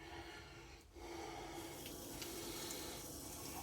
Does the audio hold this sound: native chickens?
no